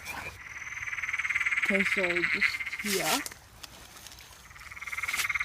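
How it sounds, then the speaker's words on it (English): Frogs croak loudly at a pond at night, with a dense, high trilling chorus and several nearer, pulsed croaks. A person speaks briefly over them. "I don't even know how well you can hear this because of all the loud frogs"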